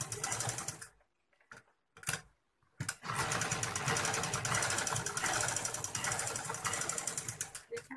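Sewing machine set up for stitching fabric, running in loud continuous bursts: a short run, brief pauses, then a long steady stretch of rapid mechanical stitching.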